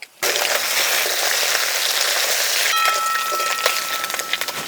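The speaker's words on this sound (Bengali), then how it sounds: "মাছ লাল লাল করে ভেজে নিলাম।" Fish frying in hot oil in a pan, with green chilli, ginger and cumin. A loud, steady sizzle starts abruptly and continues with small pops and crackles. No voices.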